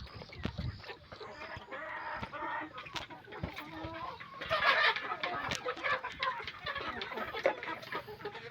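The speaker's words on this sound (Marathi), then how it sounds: "फार्ममध्ये जाऊन बघूया आपल्या कोंबड्या किती मोठ्या झाले" Chickens on a poultry farm of about a hundred three-and-a-half-month-old birds, clucking and chattering continuously at moderate distance, with a brief louder burst of squawks midway.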